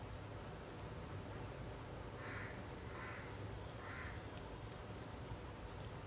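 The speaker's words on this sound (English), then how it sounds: "I'm sorry if that really loud crow is troubling you." A loud crow caws repeatedly outside, three clear calls in a steady rhythm over a constant background hiss, with no talking.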